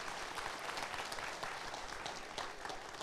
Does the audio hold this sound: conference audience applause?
yes